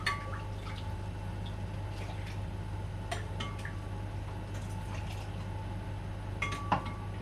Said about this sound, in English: So I'm just going to measure out another 15 fluid ounces.